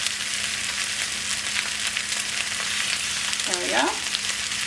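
Eggs cracked into a hot pan of fried rice: a steady loud sizzle throughout, close, with a brief rise in frying near the end as the egg hits the oil; a voice speaks briefly.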